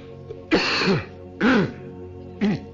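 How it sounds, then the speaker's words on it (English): Three short, rough coughs or throat-clearings from one person, close by, spaced about a second apart. "I have a little cough"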